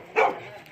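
A single short dog bark rings out nearby on a rainy day at a jungle house with many dogs around.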